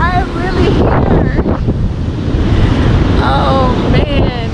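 Ocean surf washing onto a white sand beach with strong wind buffeting the microphone, a steady broadband roar throughout, with someone talking over it at times.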